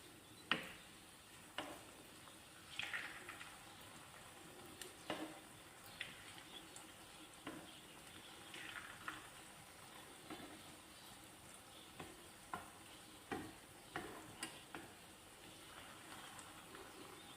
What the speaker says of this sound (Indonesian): Menggoreng dengan api sedang aja ya, biar tidak gampang gosong.